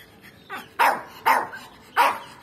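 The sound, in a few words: Puggle dog barking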